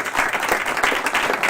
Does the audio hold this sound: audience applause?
yes